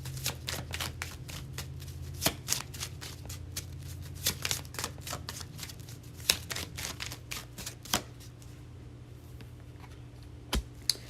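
Tarot cards being shuffled by hand, a quick run of crisp riffling slaps and flicks at close range, repeated bursts with brief pauses and no talk.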